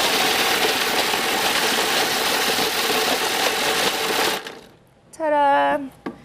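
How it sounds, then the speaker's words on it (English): A snow cone machine shaving ice runs with a loud, steady motor whir for several seconds, then cuts off abruptly, followed by a brief burst of a high voice. "So there's the snow from the snow cone machine."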